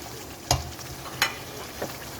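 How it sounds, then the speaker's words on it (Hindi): Chicken being roasted in masala in a pan for Kashmiri chicken curry makes a soft, continuous sizzle, broken by a few sharp stirring scrapes. "अब हम अच्छी तरह से इसको 2 से 3 मिनट तक भूनेंगे।"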